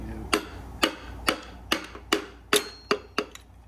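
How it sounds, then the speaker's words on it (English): Sharp hammer-butt taps drive a piston pin into an LS engine piston, about eight evenly spaced, close metallic knocks with no talking. "then you use the butt of the hammer"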